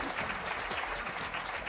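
Applause in a radio studio, a small group clapping steadily and fairly faintly, fairly close, with no voices over it.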